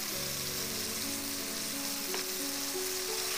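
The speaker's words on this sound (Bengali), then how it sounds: "আমরা কষিয়ে নিচ্ছি।" A pan of jackfruit seeds, flat beans, cabbage and potato, seasoned with salt and chili powder, sizzles steadily as it is stir-fried, a close, continuous hiss with a faint low hum underneath.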